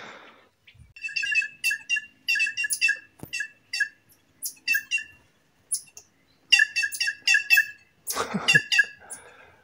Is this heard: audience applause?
no